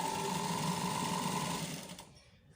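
Sewing machine stitching the part of a shirt collar without buckram on a high-neck collar, a steady close whirring run that slows and stops near the end, with no talking.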